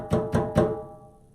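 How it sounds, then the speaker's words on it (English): Djembe laid flat on the floor and muffled, three quick hand strikes in a row that sound dull and boxy, then a short fading ring, close and alone. "Now, if you put it flat on the floor, you're going to muffle it."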